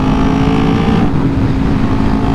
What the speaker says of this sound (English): So it does make a nice induction noise